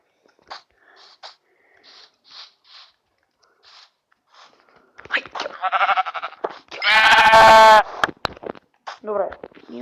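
Sheep bleating in Minecraft, a few short faint sounds early, then several louder wavering bleats close up, one long and strong, with game noises in between.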